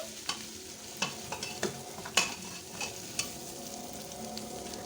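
Spices are stirred through desi chicken pieces in a karahi, with a series of scraping, clinking spoon strokes over a soft background sizzle, close and fairly quiet.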